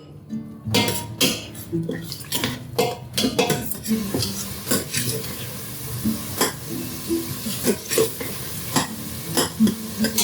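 Turmeric and Kashmiri red chili powder masala roasting in a pan for mash ki daal, with repeated scraping spoon strokes against the pan over a steady sizzle, close and busy throughout.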